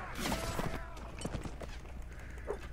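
Horse hooves clatter in the video game Mount and Blade: Warband, a quiet, rapid clip-clop of galloping mixed with other battle noise.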